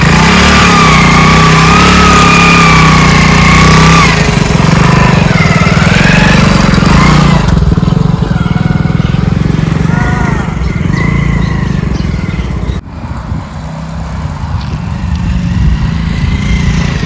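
A motorbike engine runs steadily and loudly throughout, its rough mid-pitched drone rising and falling as though revving, with a brief dip near the end before it carries on.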